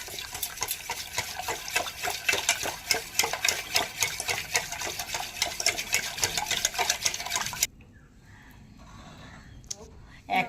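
A spoon whisks powdered sugar, milk and white oil together for an eggless vanilla sponge cake batter, a rapid, rhythmic wet clatter that stays steady and close for about seven seconds, then stops and leaves near-silence.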